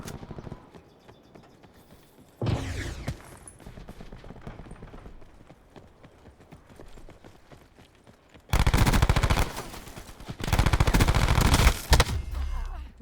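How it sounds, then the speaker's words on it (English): Rapid gunfire from a weapon in Call of Duty Black Ops 4 rattles in two sharp bursts, a short one early and a longer, louder stretch near the end, with quieter game ambience between. "Definitely the rapid fire does not help this gun."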